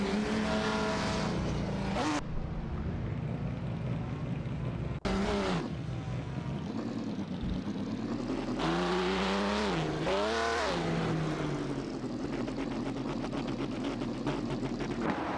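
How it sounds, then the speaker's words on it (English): Race cars in an AI racing video game accelerating and passing, with repeated rising engine whines and loud revving sweeps that continue throughout. "So glad you could join us for some AI race car action."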